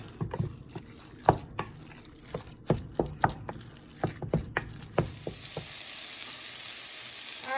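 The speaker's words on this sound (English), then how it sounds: "I have my heat up high because I want to sear it" A turkey burger patty goes into a hot pan on high heat: a run of sharp taps and knocks gives way after about five seconds to a loud, steady sizzle that holds to the end.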